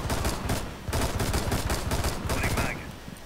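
Rapid gunfire in Rainbow Six Siege, bursts of close, loud shots in quick succession with brief pauses between volleys, including a fatal headshot.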